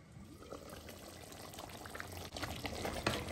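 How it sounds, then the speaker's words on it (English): Goat meat stock boils over a fire for light soup, a quiet but steady bubbling and gurgling that grows slightly louder toward the end, with no voices. "the stock on fire for the water to dry a little bit and for the meat to cook very well"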